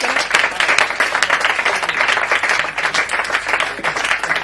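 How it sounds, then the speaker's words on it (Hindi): Loud, dense applause from a crowd welcoming satirist Radheshyam Bharti to the stage, steady claps filling the whole stretch without pause. "जोरदार तालियां बजाकर भारती जी को आमंत्रित करें।"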